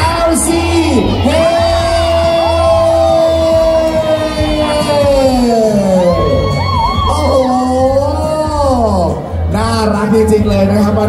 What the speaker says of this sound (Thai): ทุกคนพูดคำว่า SLC และเฮระดังหน่อย